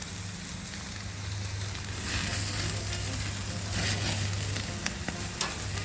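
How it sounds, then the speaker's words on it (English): Ribeye and fillet steaks sizzle on a hot grill with a loud, continuous close crackle. Occasional scrapes and taps sound as the meat is moved, and a low hum runs underneath. "this is a hot grill too, so we're going to have to keep these steaks moving around"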